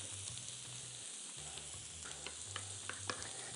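A spoon stirs fresh garlic cloves and half a lemon's juice together in a bowl for souvlaki, a soft, steady scraping and mixing under a low background hum, with no talking.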